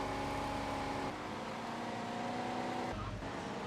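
Truck engine driving in GTA Vice City Stories, a steady low motor hum with a slight pitch change as it cruises, moderately quiet and continuous without speech.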